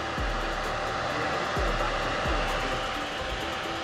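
An external electric cooling fan spins on a dirt bike radiator, giving a steady, loud broadband whoosh of rushing air with a few low thumps underneath.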